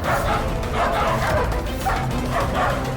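Dogs barking and yipping loudly and continuously, close by, mixed with frantic background commotion in a tense dramatic scene.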